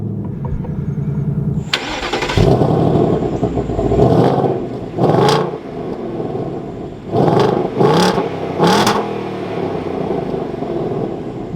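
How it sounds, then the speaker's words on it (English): A 2024 Ford Mustang GT engine cranks and fires up loudly, then settles into a rumbling idle broken by several sharp revs, each climbing and dropping back. "let's fire this up with the aftermarket engine start stop cover and take a listen to this Mustang"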